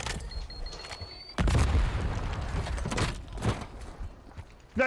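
Video game gunfire booms and crackles in a steady, fairly close volley of repeated shots, with louder blasts standing out and a final sharp report at the end.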